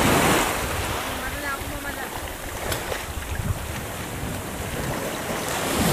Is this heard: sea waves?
yes